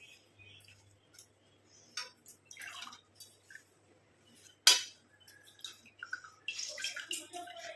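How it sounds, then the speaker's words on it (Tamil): Washed flowers being wrung out by hand, with sparse, irregular drips and small wet clinks and splats close by, faint and intermittent, one sharper splash near the middle, and no talking. "இந்த எல்லாத்தையும் நல்லா தண்ணி இல்லாமல் பிழிஞ்சிட்டு நம்ம எடுத்துக்கலாம்."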